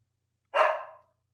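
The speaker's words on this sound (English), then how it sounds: "dogs are barking now" A dog gives a single sharp bark, moderately loud and alone against silence.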